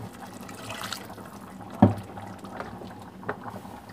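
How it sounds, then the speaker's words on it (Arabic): Water is poured into a pot while cooking pasta with tuna, a brief gurgling splash near the middle followed by a smaller slosh, close and moderately loud. "باش نزيد ماء هنا."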